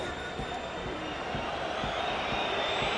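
A rugby crowd at a Rugby World Cup pool match between Argentina and Namibia protests at the referee, a continuous distant roar of massed voices rumbling evenly across the stadium.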